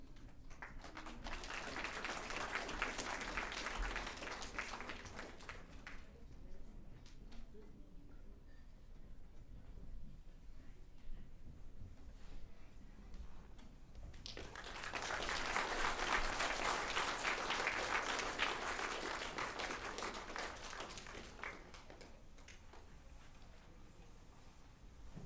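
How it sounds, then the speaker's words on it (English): An audience claps for the Mentone Girls' madrigal choir at a concert in Rotorua, broad steady applause that swells, eases to scattered clapping, then rises again into a second full wave. "please give the Mentone Girls a big round of applause"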